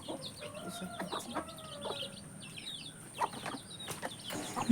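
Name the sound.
chickens clucking while eating feed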